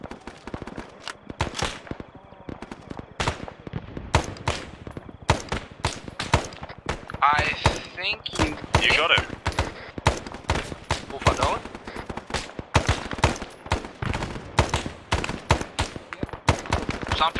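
Rapid gunfire in the Vietnam-era mod of the video game Arma 3: dense bursts of sharp, close shots firing in quick rhythmic strings for the whole stretch, with a voice briefly speaking midway.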